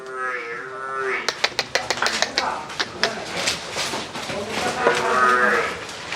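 Jafarabadi and Murrah buffaloes at a livestock sale call out in long, moaning bleats at the start and end, with sharp clattering knocks in between and a voice talking over the scene.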